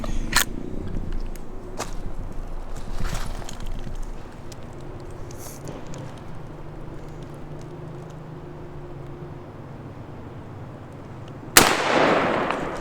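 A large-caliber rifle fires a 450-grain bullet at a brick wall, one sharp, loud report near the end after a stretch of quiet outdoor ambience with a few faint clicks.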